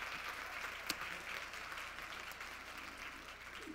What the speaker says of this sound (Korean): 고생한 저희 대학원생들한테 박수를 쳐주시면